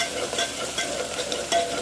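Steady crackling sizzle of rice being tempered with onion in a pot, with light stirring scrapes, continuous and close, no voices.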